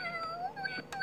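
A voice imitates a cat's meow with a brief, wavering, nasal, tonal cry. The sound is clear but fairly soft in a quiet room.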